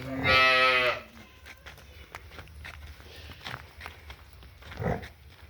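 On a dairy farm in Dadupur, Amritsar, a cow lets out one loud, close moo, followed by quieter shuffling hooves and scattered farmyard movement.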